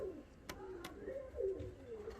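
Soft pigeon coos rise and fall from ornamental costume pigeons kept close by, with a couple of sharp clicks over a quiet room hum.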